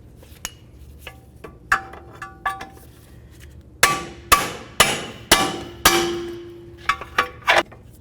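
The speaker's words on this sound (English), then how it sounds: "just use your hammer carefully right along this area here" Repeated hammer blows on a Jeep Compass lower suspension part, a few light taps followed by a run of loud ringing strikes, then more scattered hits.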